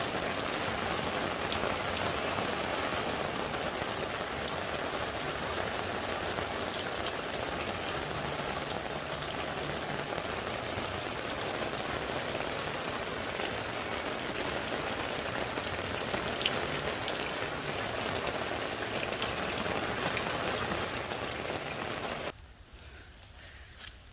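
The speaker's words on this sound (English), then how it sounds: "it's safe to say we've had a lot of rain." Heavy rain pours steadily on a rural property beside a full pond, a dense continuous hiss of drops hitting surfaces that stays loud and even before cutting off abruptly near the end.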